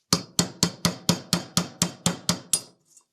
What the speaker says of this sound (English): So let's get a flat punch and drive it out the rest of the way.